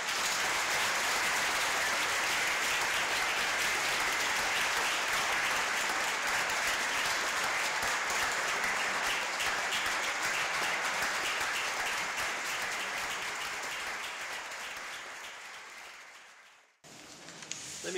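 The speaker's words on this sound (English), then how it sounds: "Could we have a round of applause from the audience?" Audience at a law school moot court competition breaking into sustained, dense applause that holds loud for about thirteen seconds, then fades quickly to near silence.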